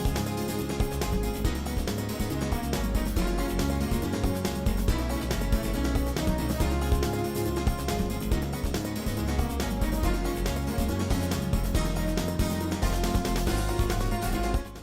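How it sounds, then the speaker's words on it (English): Green Grove Zone music from the Sega Saturn version of a Sonic the Hedgehog game plays without pause, a thick, bass-heavy, steadily pulsing track with no talking over it. "Now, the Saturn version is a completely different song and sounds like this."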